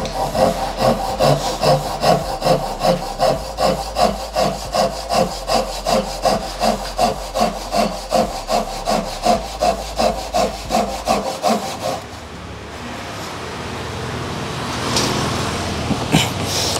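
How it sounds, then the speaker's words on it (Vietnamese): Crosscutting wood with a double-edged Japanese hand saw, a steady run of about twenty close rhythmic rasping strokes that then stop, followed by quieter handling noise. "Thì bây giờ mình sẽ cắt ngang với cái lưỡi cưa hai cạnh."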